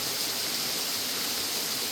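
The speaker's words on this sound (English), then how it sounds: "An amazing waterfall." A steady, full rush of falling water roars without pause, a constant hiss close by.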